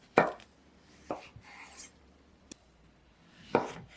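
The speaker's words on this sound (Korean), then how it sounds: "길이 방향으로 1cm 두께로 직사각형 모양으로 썰어줄 거예요." A knife cuts zucchini into 1 cm thick rectangular strips, giving a few sharp separate thuds on a cutting board spaced about a second apart, with a small tap between them and quiet gaps.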